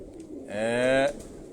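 Pigeons coo at close range on a rooftop loft, a single drawn-out rolling coo lasting about half a second over quiet background noise.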